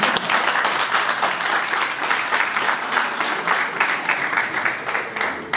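Steady applause from a crowd fills the whole stretch, dense and loud, with no voices standing out.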